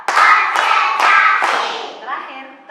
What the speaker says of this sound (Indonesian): Tepuk empat.